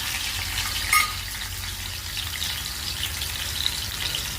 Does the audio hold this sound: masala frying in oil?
yes